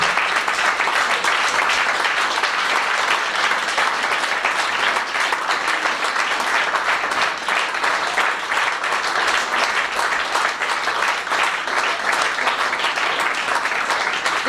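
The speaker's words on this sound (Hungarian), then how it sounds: "Még egy nagy tapsot szeretnék kérni a Lengyel Iskolai Konzultációs Koncertjátszó csoport vezetőjének, Troján Tündének és a fellépő gyereknek." Steady, full audience applause at a children's theatre evening, honouring a Polish school concert group and its young performers, an even rain of many hands clapping at constant loudness for the whole stretch, with no voices over it.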